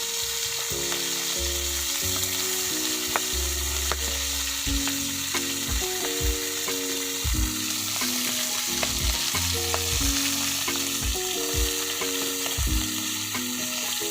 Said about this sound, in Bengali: এখন মাছগুলোকে ভালো করে লাল করে অল্প জাল দিয়ে আস্তে আস্তে করে নেড়ে করে সবাই ভেজে নিতে হচ্ছে।